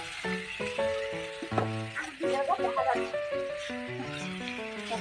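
Steady sizzling as panch phoron spices and chopped vegetables hit hot oil in a pan while making a potato curry with lentil fritters, a continuous close hiss running under background music.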